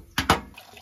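Tumbled rocks, including petrified wood, rinsed under running water, giving two short bursts of splashing close by, then a faint trickle that fades out.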